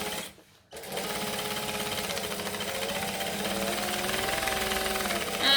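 Sewing machine stitching fabric, then backstitching: a brief pause before a steady, close, rapid mechanical rattle runs for several seconds, ending with a slightly louder burst.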